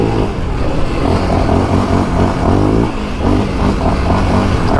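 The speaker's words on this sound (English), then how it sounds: "break-in ride on the brand new Raptor. 2024 Raptor 700R SE." A brand-new 2024 Yamaha Raptor 700R SE quad on its break-in ride, its engine loud and close, rumbling and revving steadily with some clatter throughout.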